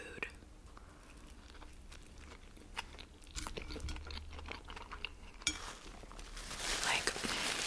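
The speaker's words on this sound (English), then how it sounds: "watch me like pound all this junk food" McDonald's junk food eaten close to the microphone in an ASMR mukbang: soft, moist chewing and occasional crunches with small packaging rustles, steady and quiet, growing denser toward the end.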